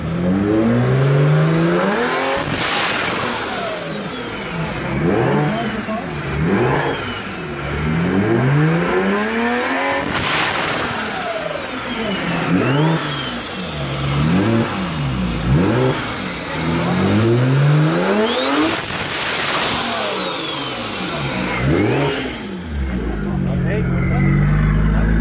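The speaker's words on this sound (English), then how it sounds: "This car is a BMW 335 with 707 horsepower." A BMW 335 tuned to 707 horsepower revs and accelerates hard in repeated loud passes, its engine note rising and falling, with a few voices nearby.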